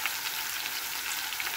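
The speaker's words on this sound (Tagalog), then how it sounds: "So, iprito po natin siya for tapos balik pa rin mamaya." A fish fillet frying in a pan gives a steady, dense hiss and crackle of hot oil that carries on evenly throughout, close and alone with no voices.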